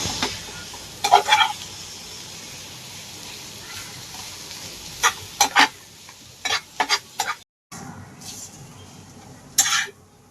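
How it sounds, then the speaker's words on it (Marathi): Onion sizzles in a pan for a chicken curry while a utensil stirs it, with a steady frying hiss and intermittent sharp scraping clicks against the pan, close up and with no talking. "तर आपण सर्वात पहिले कांदा भाजून घेऊया."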